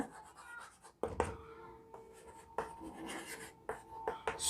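A pen writes a maths formula on paper in quick scratchy strokes, with short bursts and pauses between marks, close and fairly quiet.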